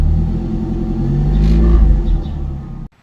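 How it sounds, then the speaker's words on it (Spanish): Nissan Platina K4M engine, just fitted with a new throttle position sensor, revving up into a low rumbling swell and then cutting off abruptly at the end, heard close with no speech. "la percepción y ahorita la sensación de aceleración y de sonido de motor es correcta"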